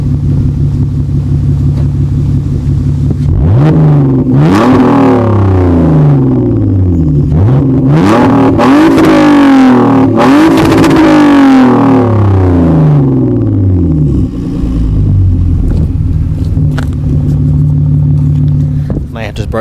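Loud, close car engine revving repeatedly, pitch sweeping up and falling back in several bursts over a steady idle.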